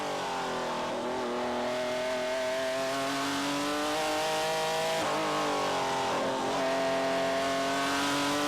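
Barber Dodge race cars with V6 3.5-litre engines roar continuously at Sebring, a steady high-pitched engine note rising and falling through gear changes and corners, loud and close without a break.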